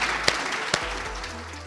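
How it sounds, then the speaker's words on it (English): A conference audience gives applause for students, a steady wash of many hands clapping in a hall with a couple of sharper individual claps standing out. "I want all of you to give a round of claps for our amazing students at Lex Hub"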